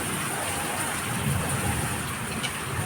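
Steady afternoon rain falls in a broadband wash at a farm drainage ditch, constant and moderately loud throughout, with no voices.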